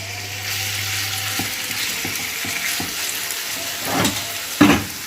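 Shawarma meat dropped into hot corn oil gives a steady close sizzle with faint clatter, a louder burst of frying near the end.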